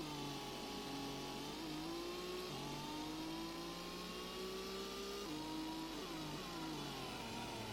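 Race car engine in the Gran Turismo video game during an all-night endurance race on SS Route 11, a steady loud drone that climbs in pitch, drops sharply at gear shifts, then rises again.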